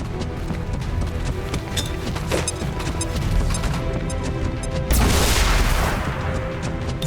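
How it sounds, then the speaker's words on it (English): Grenade explosion in the XCOM 2 video game, a sudden loud broadband blast midway through a busy stretch of game sounds and clatter, followed by a couple of seconds of roaring debris. "We'll use the grenade to guarantee the kill."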